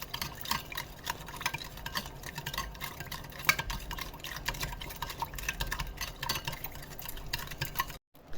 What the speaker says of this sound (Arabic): وهقلب ده كله مع بعض، وهنضرب ده كله في قلب بعضه